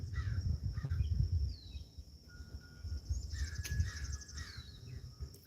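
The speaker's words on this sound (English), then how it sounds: "You can hear the crows." Crows caw in a few scattered bursts from a back porch, against a quiet backdrop of insects and other birds, moderately distant and soft.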